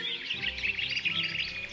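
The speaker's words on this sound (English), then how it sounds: "the birds were twittering to one another" Small birds twitter and chirp continuously in a forest, a busy overlapping chorus of quick high calls at moderate distance, with no voices.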